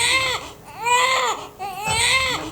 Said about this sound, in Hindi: ये किसके रोने की आवाज है?